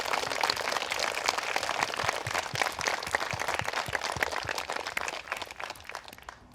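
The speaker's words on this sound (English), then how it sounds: "Can we give Sebastian a round of applause for thanking?" Dense applause from an audience for Sebastian Vettel, a steady wash of many hands clapping that fades slightly toward the end.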